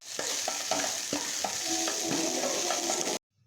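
Okra (bendakaya) fries in an uncovered pan with turmeric, salt and chili powder, producing a loud steady sizzle with repeated scraping stirs before cutting off abruptly.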